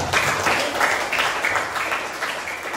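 A sixth-grade class claps together in a classroom, brisk overlapping handclaps in a steady patter, fairly close and loud, filling the whole moment without speech.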